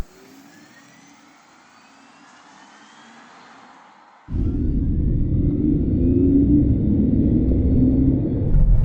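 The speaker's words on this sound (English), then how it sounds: "not only does it make electric sporty sound on the inside of the cabin, it also emits it on the outside at speeds below 80 kilometers an hour" A Mercedes-AMG GT 63 S E-Performance accelerates with its artificial electric V8 sound, a faint hum that abruptly jumps to a loud, sustained low drone and rumble, no talking.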